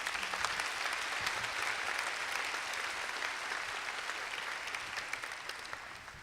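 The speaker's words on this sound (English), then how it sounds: "I think they deserve a round of applause." A graduation crowd applauding its teachers, with dense, sustained clapping from a large audience that holds steady and then gradually fades.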